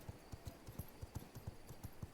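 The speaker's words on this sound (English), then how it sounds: "we're gonna jump our horse at this point over here" Horse hooves clip-clop at a steady trotting rhythm in the video game V Rising, about a dozen even, faint, low thuds over a soft background.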